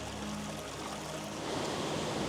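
Water rushing past a mine water intake on a mountain walk, a dense, steady hiss of flowing water that fills the clip evenly, close and loud with no voices.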